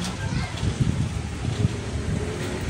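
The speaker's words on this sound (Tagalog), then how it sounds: "Yan ang hangin" Strong typhoon wind roars and buffets the microphone in uneven gusts, a constant rumbling rush with no clear voices.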